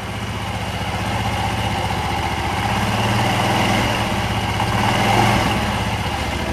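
Scooter engine held at a steady elevated throttle while the CVT clutch is tested, a continuous droning hum with slight swells, close and alone.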